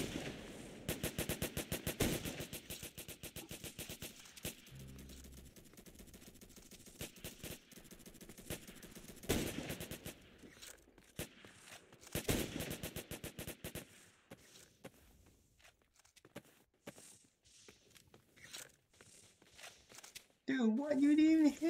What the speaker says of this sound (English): What are you shooting at, buddy?